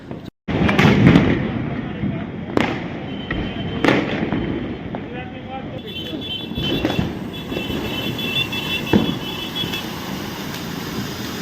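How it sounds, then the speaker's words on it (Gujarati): Sharp Diwali firecracker bangs burst at irregular intervals, some near and loud, others distant, over a steady outdoor rumble with voices in the background. "દિવાળીને બધા ફટાકડા પડે ને આપણે અહીંયા બેઠા છીએ."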